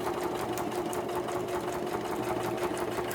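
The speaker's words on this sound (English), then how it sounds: "I'm just going to sew it on. I usually like to do a zigzag stitch" A sewing machine runs a zigzag stitch through paper journal pages, a steady close mechanical whir with a fast rhythmic needle chatter that holds unbroken throughout.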